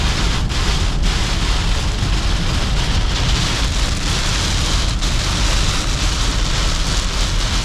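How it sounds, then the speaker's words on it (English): Hard rain pours during a severe thunderstorm on the Illinois-Indiana border in the Midwest, a dense, loud, unbroken hiss of drops drumming on surfaces, steady from start to finish with no talk. "Raining pretty hard right now."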